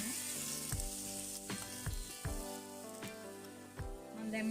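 Chicken devilled with tomato sauce sizzles steadily in a pan while a spoon stirs it, the spoon knocking the pan in regular soft thumps, close and with no voices.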